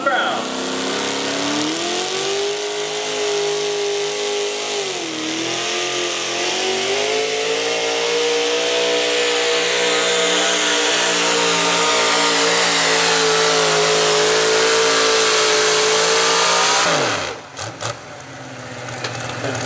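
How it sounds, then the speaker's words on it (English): A modified two-wheel drive pulling truck called the Bandit roars loud and near, its engine pitch rising and holding in a long sustained rev before cutting off abruptly, followed by a few clanks. "Truck he calls a Bandit, two-wheel drive modified"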